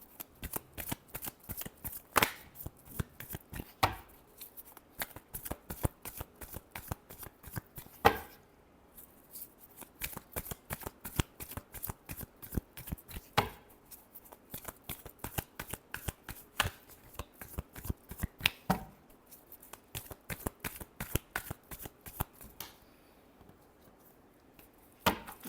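Tarot cards are shuffled repeatedly by hand, a fast crisp patter of riffles and taps with sharper accents every few seconds, continuing for about twenty-five seconds at close range.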